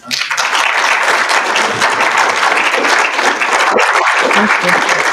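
A conference audience at a NIME 2025 paper session gives a round of applause, loud, dense clapping that swells in quickly and holds steady through the whole stretch.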